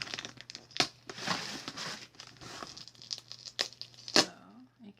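Gift wrapping paper crinkles and tears close by in short, irregular bursts of crackling rustle, with quiet gaps and a faint steady hum beneath.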